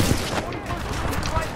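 Rapid gunfire from Titanfall 2 crackles in dense bursts throughout a brief stretch, loud and close, with someone talking over the shooting.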